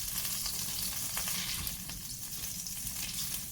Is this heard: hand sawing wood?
no